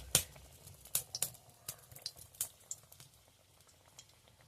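Battered apple pieces frying in oil over a low flame give off quiet, scattered crackles and pops, a soft bubbling bed under sharper spits that thin out toward the end.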